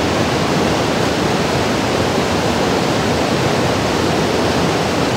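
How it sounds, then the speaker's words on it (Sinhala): Asupini Ella waterfall, deep in rainy Sri Lankan forest, pouring down. A loud, unbroken roar of falling water fills the whole stretch with no other sounds. "මේ වතුර පාර ගලන් යනවා."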